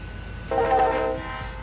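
Train horn in a Roblox rail game, a single short honk of about half a second, clear and moderately loud over a low background hum.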